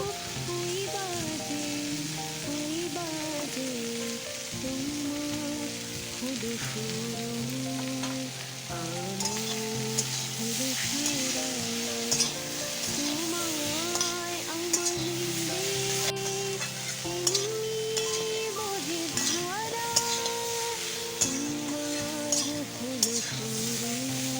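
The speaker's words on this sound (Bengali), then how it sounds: "সবজিটা ভাজা ভাজা হয়ে গেছে, এবার এতে জল দিয়ে দেবো।" Vegetables for a vegetarian Bengali chorchori with raw chickpeas frying and stirred in a pan, a steady sizzle running throughout with scraping stirs and occasional clinks, under background music.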